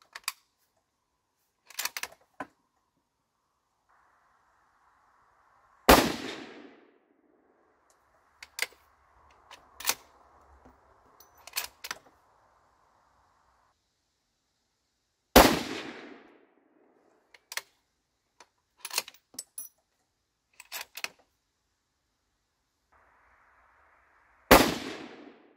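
A Savage Axis .223 Remington rifle with a Weaver scope, its barrel warm, fires three loud, sharp shots about nine seconds apart. Quieter mechanical clicks and handling noises fall between the shots.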